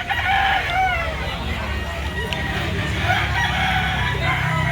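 Roosters crow repeatedly and chickens cluck in a busy live chicken market in Lipa City, Batangas, a dense overlapping chorus of fowl close by with faint background voices.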